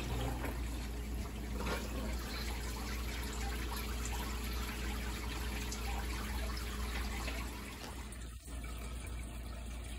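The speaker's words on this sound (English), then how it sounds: "We're gonna reopen these valves so the water can actually flow." Water flows through a Fluval FX6 canister filter after its valves are reopened, giving a steady, close rushing trickle with no talk. A brief gurgling break is heard near the end.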